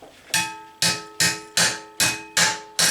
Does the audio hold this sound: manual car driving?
no